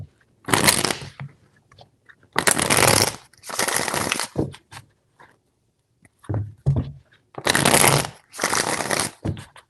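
Tarot cards being riffled and shuffled in several quick bursts with short pauses between, close and crisp.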